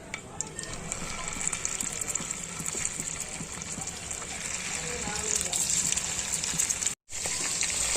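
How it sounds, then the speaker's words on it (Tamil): Small cut pieces of paneer fry in hot oil in a pan, giving a steady close sizzle and bubbling hiss that runs almost unbroken for several seconds, with one brief dropout near the end. "இது அப்படியே எண்ணெயில வச்சு நம்ம பொரிச்சு எடுத்துக்கலாம்."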